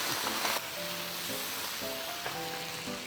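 Squid with garlic, chili bean paste, oyster sauce and chunks of green and red pepper sizzles loudly in a wok, a continuous close frying hiss with faint tonal sounds in the background.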